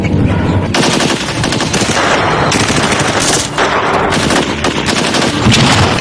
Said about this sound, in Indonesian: tapi tembakan mereka semuanya meleset